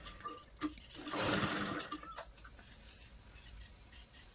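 A sewing machine stitches magji trim onto a Rajput lehenga in one short whirring burst of about a second, with scattered light clicks and handling noise before and after in a quiet room.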